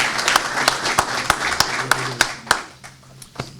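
Audience applause for an award recipient at the Medlock Long Leaf Pine Award presentation, with distinct hand claps rising out of a moderate, somewhat sparse round that tapers off toward the end.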